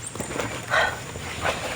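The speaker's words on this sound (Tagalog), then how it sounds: "Tunog kahol." A dog barks twice, about a second apart, at moderate distance over a low background murmur.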